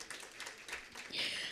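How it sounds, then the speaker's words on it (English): Soft, continuous applause from an audience at a Namibian brand awards event, a blurred wash of many clapping hands that swells slightly toward the end. "Let's give Ialo a round of applause."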